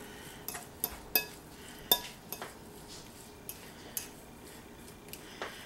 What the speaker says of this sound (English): I'm going through it with a fork first to make sure I don't have any uncooked lumps